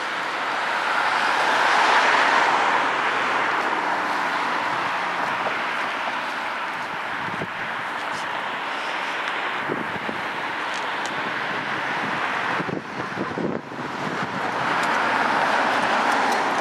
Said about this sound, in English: there's always lots of cars driving by, stopping, slowing down, stopping